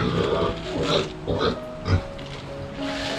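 A pig in its pen gives a series of short grunts and oinks, loud and close, separated by brief pauses over faint background noise.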